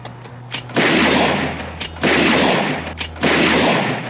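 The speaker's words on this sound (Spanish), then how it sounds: "recreando la escena de los disparos en los sombreros" Film gunshots from the hat-shooting scene of the Sergio Leone Western Once Upon a Time in America: three loud, broad bursts about a second apart, each with a sustained rumbling tail over a low hum, no talk.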